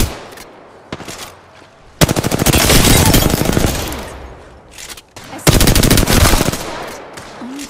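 Rapid automatic gunfire in the battle royale video game Apex Legends during a squad fight, loud bursts of fast repeated shots starting and stopping, with a couple of single shots before the first long burst.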